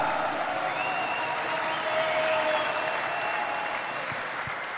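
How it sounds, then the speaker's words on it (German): Steady, dense applause from a large crowd at an ice hockey arena fills the whole stretch, loud and continuous without letting up. "Bitte einen Applaus"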